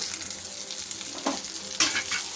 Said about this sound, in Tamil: எல்லாத்தையும் உள்ள ஆட் பண்ணிவிட்டு ஒரு தடவை அப்படியே சேர்த்து நம்ம கலந்து விட வேண்டிதான்